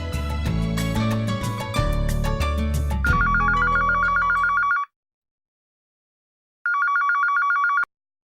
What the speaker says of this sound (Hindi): हाँ, दादी को फोन लगाते हैं